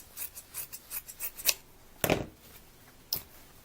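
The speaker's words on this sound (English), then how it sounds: "So I'm going to just cut this into a smaller piece here." Scissors snip through a scrap of fabric for a mug mat appliqué, a quick run of close, rhythmic crisp cuts followed by two louder, separate snips.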